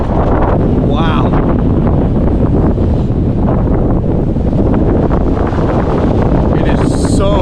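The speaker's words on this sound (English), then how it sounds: "It is so windy." Loud, relentless wind buffeting the microphone with a deep rumbling roar, while a voice speaks briefly under the gusts.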